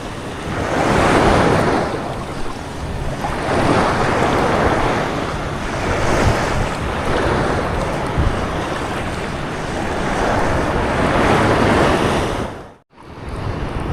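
Ocean surf rolls and crashes in repeated swells, loud and close, with gusting wind buffeting the microphone throughout.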